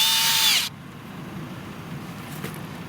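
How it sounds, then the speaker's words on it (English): A power drill bores a bait hole for a coyote trap in a short, loud, high-pitched whine that winds down and cuts off within the first second, leaving quiet outdoor background. "I almost forgot to drill the dang bait hole back out"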